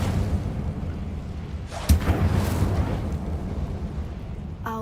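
A fire spell cast in Hogwarts Legacy erupts as a sudden fiery burst with a sharp whoosh near the two-second mark, then a crackling rumble fades over a steady low game background.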